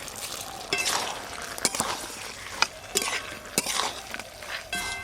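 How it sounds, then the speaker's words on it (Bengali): Fried prawns and sugar are stirred into a cauliflower stem curry in a pan, making soft sizzling under a series of sharp scrapes and clinks of a spoon against metal at irregular intervals. "এবার দেব ভেজে রাখা চিংড়ি মাছ, অল্প একটু চিনিও দেব।"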